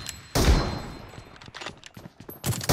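M24 bolt-action rifle fire in PUBG Mobile, one loud booming shot with a long decaying tail, followed by a flurry of lighter distant shots and another burst at the end.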